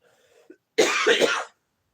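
A single harsh cough from a woman with a dry throat bursts out nearby, a quick raspy fit after a faint breath or two.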